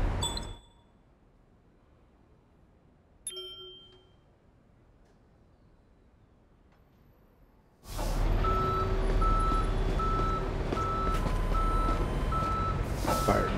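A tow truck wrecker reverses with a steady backup beeper pulsing loudly over its engine rumble, coming in abruptly after a quiet stretch with a brief beep near the start.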